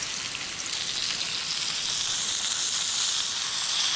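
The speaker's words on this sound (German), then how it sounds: "Schulterfleisch kräftig von allen Seiten anbraten." Seasoned, floured pieces of beef shoulder sear in hot oil in a pot for boeuf bourguignon, giving a steady, close, bright frying sizzle that swells slightly louder over the few seconds with no talking.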